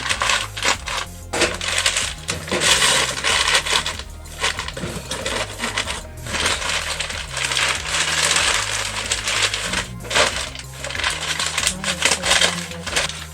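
Scissors or a blade cut through packing paper in a busy stretch of crinkling, snipping and tearing that runs close and steady throughout, with no voice over it.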